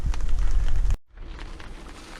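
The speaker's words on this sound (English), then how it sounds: "So it's starting to rain. I don't know if you can hear the raindrops" Rain falling on a campsite at John Pennekamp Coral Reef State Park in Florida, a steady broadband hiss of drops that is loud at first, cuts out briefly, then returns softer and continuous.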